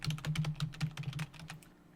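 Quick, uneven keystrokes on a computer keyboard, a fast burst of faint, close clicks that thins out and stops near the end; no talking.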